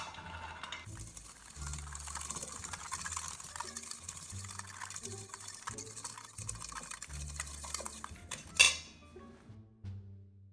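Ingredients for a Mardi Gras king cake are stirred in a bowl, with a spoon clinking and scraping in a quiet, irregular rhythm and one sharper knock near the end.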